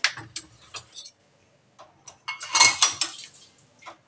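Steel spoons are dropped one after another into the cutlery rack of an IFB dishwasher, giving a run of bright metallic clinks and ticks with short pauses and a denser clatter in the middle.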